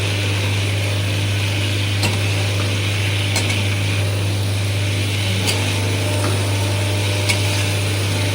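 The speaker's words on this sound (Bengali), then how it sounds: "এবার দেখুন এইগুলো আলু, কাঁচকলা আর পেঁপেটা দিয়ে দিলাম মশলার মধ্যে, দিয়ে নাড়িয়ে চাড়িয়ে নিচ্ছি।" Potatoes, green banana and papaya being stirred through spices in a pan: a steady close hiss with a low hum beneath, and occasional sharp clicks from the utensil.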